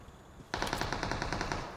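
An abrupt burst of rapid automatic gunfire in PUBG Mobile, about a dozen evenly spaced shots in quick rhythm, loud and close, following a moment of quiet background.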